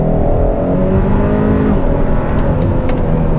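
Engine of a 2022 Hyundai Sonata N Line with active sound design, heard from inside the car while driving: a loud, steady, low drone with slowly shifting harmonics as speed eases off, no talking.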